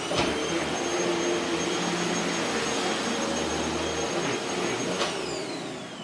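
A T-Series vacuum cleaner runs in a steady, close, loud whine and rush of air that holds constant and fades slightly at the end.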